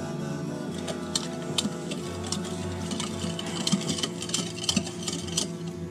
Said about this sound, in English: Let me get that stirred up.